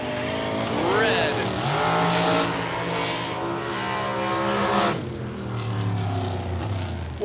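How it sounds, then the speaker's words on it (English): A dragster and a Mustang race down a drag strip, engines roaring and sweeping upward in pitch as they pass, loud and close, with a crowd and announcer-like voices in the background. "So the Dragster just went 4 flat at 180 with no burnout, and that Mustang did a second burnout."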